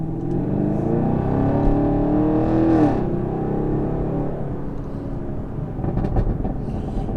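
A 2019 Chevrolet Camaro SS with a 6.2-liter V8 and ten-speed automatic revs up nearby, its loud, deep exhaust rising and falling in pitch before settling back to a steady idle rumble.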